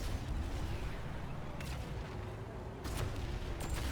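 Missiles explode in Planetside 2 as a few separated, muffled booms over a constant low rumble of battle noise, fairly distant and not very loud.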